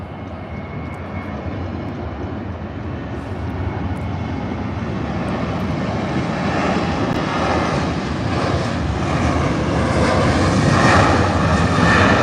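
A CRJ 700ER regional jet in a flight simulator game spools up for takeoff from Aspen, a steady engine roar that gradually grows louder and brighter across the run, with no voices.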